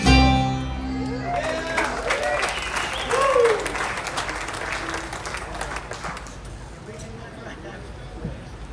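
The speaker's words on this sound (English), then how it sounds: "Thank y'all so much for your nice round of applause." Audience applause at a bluegrass festival in West Virginia, following the band's song: a final chord rings briefly, then warm clapping swells with crowd murmur and tapers over several seconds.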